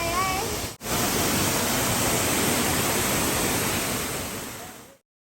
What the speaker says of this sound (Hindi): हम नीलकंठ से नीचे उतरते वक्त ये झरना आया है।